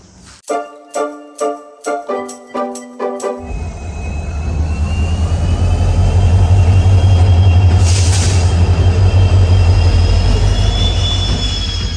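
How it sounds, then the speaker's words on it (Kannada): Several sharp rhythmic clanks at the start, then a loud, sustained rumble of an arriving train builds and holds, with a thin metallic squeal above it. "ಬಂತು ಬಂತು ಟ್ರೈನ್ ಬಂತು"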